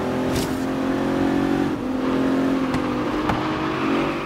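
A car in the driving game Forza Horizon 3 drives with a steady, close engine drone that dips and revs back up a few times, with brief clicks and shifts between; no one speaks.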